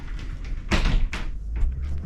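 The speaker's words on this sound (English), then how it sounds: "So that's the sliding door" A sliding door on a caravan bathroom adapted for wheelchair access being opened, a rolling scrape followed by a couple of dull knocks and thuds, close by against a low background rumble.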